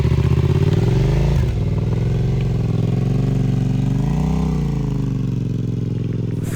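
A motorcycle with a broken clutch runs loud and close, its engine rumbling and revving in rising and falling swells after a brief clatter near the start, with no talk.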